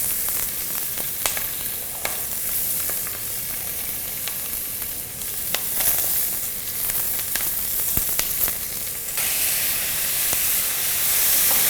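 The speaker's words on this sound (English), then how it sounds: "I will be starting to saute my vegetables" Mirepoix vegetables sizzle steadily in a hot pan, a loud continuous frying hiss broken by occasional sharp spatters and stirring scrapes.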